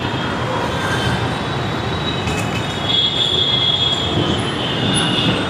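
A metro train at Sakinaka metro station rumbles steadily and close, with high, thin wheel squeal sustained over the continuous rolling noise and no voices.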